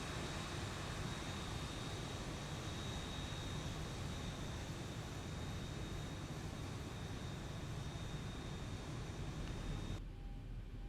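A jet airliner taxis for takeoff in the X-Plane 11 flight simulator, producing a faint, even engine roar and broadband rumble that holds steady, then drops away near the end.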